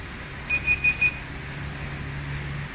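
Four quick electronic beeps in a row from a malfunctioning Mister Robot robot vacuum that stops and spins in place, high-pitched and fairly loud, over a steady low motor hum that continues after the beeping stops.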